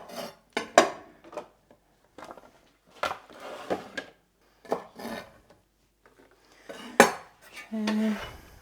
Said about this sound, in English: So I'll just top and tail those.